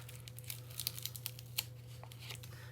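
Backing paper is peeled slowly off a vinyl decal at close range, making faint crackly tearing bursts over a steady low hum.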